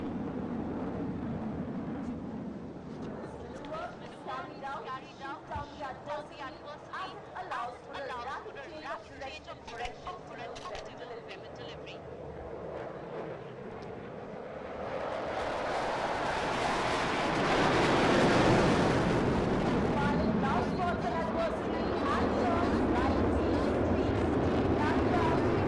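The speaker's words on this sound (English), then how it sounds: "The light combat aircraft Tejas." A HAL Tejas light combat aircraft flies a display over a lake at an air show, a broad jet roar that builds and swells loudly in the second half under a public-address commentator's voice and crowd chatter.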